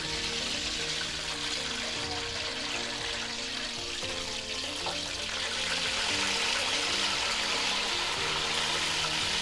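Water is poured into petha halwa, an ash gourd dessert with crushed cardamom, cooking in a pan, giving a faint, steady rushing and splashing hiss that runs on without pause. No one speaks.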